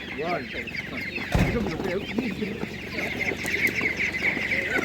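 Laying hens cluck and murmur continuously nearby at a Ukrainian livestock market, several birds overlapping in a busy farmyard chatter.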